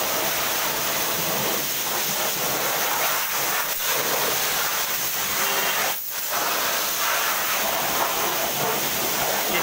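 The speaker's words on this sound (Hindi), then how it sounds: "अभी अभी केमिकल का वॉशिंग चल रहा है।" Chemical wash sprays at high pressure onto a Bajaj Avenger motorcycle, a continuous loud, close hiss with only a brief dip in the flow.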